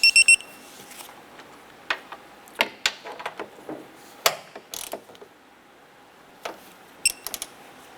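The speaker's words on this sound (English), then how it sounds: "I'm going to torque down these 3 nuts to 21 foot-pounds" A hand ratchet clicks in quick bursts at the start and again near the end while tightening three front strut nuts on a 2007-2012 Nissan Versa, with scattered metallic clanks between the bursts.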